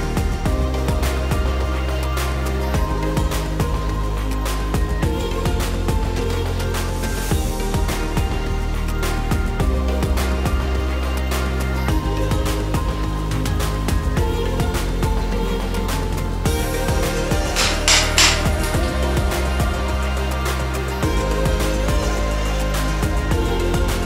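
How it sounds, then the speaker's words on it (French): A jackhammer chisels tiles off a wall during a home renovation, producing a continuous loud, rattling hammering with dense impacts and gritty debris noise throughout. "j'avais jamais utilisé de marteau-piqueur"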